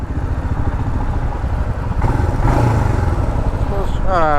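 A Royal Enfield Himalayan motorcycle rumbles at low speed with a steady throbbing engine and road noise throughout, while a rider talks over it close to the mic.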